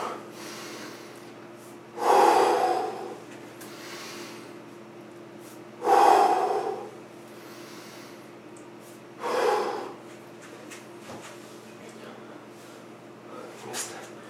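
Heavy breathing during a kettlebell snatch workout: three loud, forceful exhalations or gasps spaced a few seconds apart, close to the listener, with quiet hum between them.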